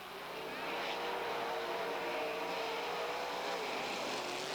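Sprint cars race through the first lap at the 1985 Eastbay Winternationals in Florida, their engines a continuous high, loud roar that swells and then stays steady for the whole stretch.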